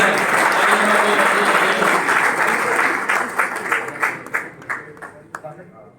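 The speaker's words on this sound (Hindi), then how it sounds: "जोरदार तालियां होनी चाहिए।" Audience applause at a chemists' association get-together, loud and full at first, then thinning into scattered individual claps that fade out.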